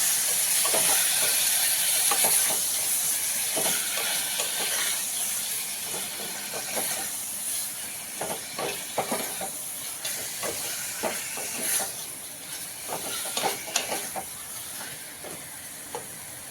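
Mutton coated in green mint masala frying in oil, a constant hiss with scattered clicks and scrapes of stirring, moderately loud and close with no voices.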